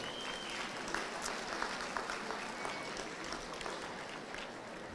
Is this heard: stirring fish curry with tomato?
no